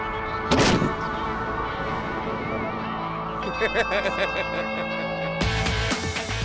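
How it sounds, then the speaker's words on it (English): A cannon made from a tree fires a single heavy boom near the start, followed by rumbling outdoor noise and scattered crowd voices with a few sharp metallic clanks. "What everyone did see was a remarkably successful tree cannon."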